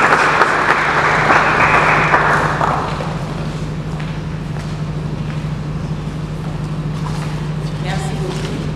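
Audience applause and cheering at a gathering, a dense broadband wash of clapping that is loud for the first three seconds, then thins to a steadier, softer patter of claps with a low hum beneath.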